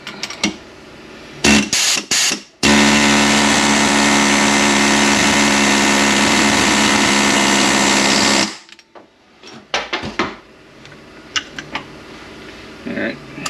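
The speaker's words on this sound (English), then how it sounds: "An air hammer with a bit like that." A pneumatic air hammer runs steadily at close range for several seconds, a loud continuous buzzing drone, during disassembly of a M7ZA gear unit, with short bursts of clattering before and after.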